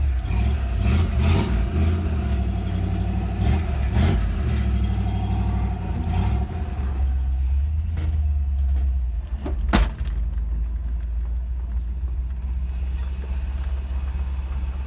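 A Chevrolet S10 truck with a swapped TBI 5.7 V8 runs in a driveway, a steady loud low rumble with a few revs early on, then settling into a lumpy idle, no talk.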